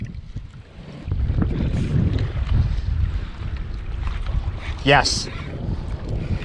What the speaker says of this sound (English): Oh, it's a strong gust right now.